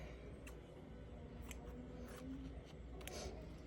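Scissors snip through a waterproofing bandage wrap in a few short, faint cuts over a steady low background rumble.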